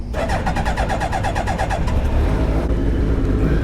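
A car engine cranks with a rapid starter whir, catches and settles into a loud, steady idle close to the microphone, with no talking.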